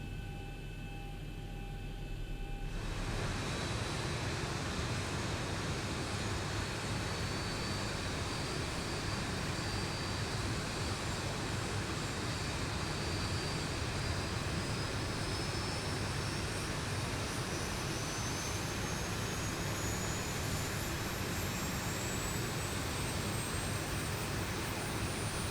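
A Boeing 737 jet engine number 1 spooling up during start in the X-Plane 11 flight simulator: a sudden loud broadband roar after a quiet few seconds, holding steady with a rising whine above it, no speech.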